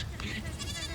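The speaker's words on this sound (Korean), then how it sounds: "흑염소들이 외출을 나왔습니다" Black goats out on a sunny winter day at a mountain farm in Boseong bleat in short, nasal calls, mixed with a voice speaking over them.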